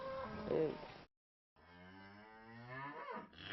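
Dairy cattle mooing on a farm: one loud, close moo, a brief pause, then a longer drawn-out lowing call that rises and falls, with no talk over it.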